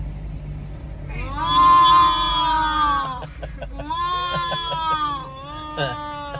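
A voice imitates a water buffalo with drawn-out, wavering moaning calls, repeated several times close up over a steady low engine hum.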